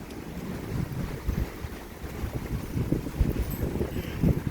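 Strong, gusty winds from an unusual January thunderstorm in southeastern Pennsylvania roar steadily, with low rumbling buffeting and irregular louder gusts throughout, no voices present.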